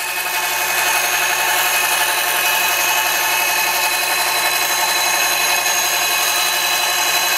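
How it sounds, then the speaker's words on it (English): WWII drift meter ball assembly rotating at about 40 RPM, a steady close mechanical whir with a continuous motor-like hum and no change over several seconds. "The ball assembly rotates at approximately 40 RPM, and you can see the ball in its track here."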